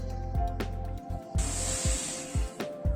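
A little water is poured into a container used for ridge gourd cooking, giving a rushing spray-like splash for a couple of seconds amid soft knocks and handling noises.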